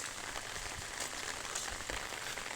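Rain outdoors during a walk: dense, steady hiss of drops pattering on surfaces, close and continuous with a few sharper nearby splats, no talking.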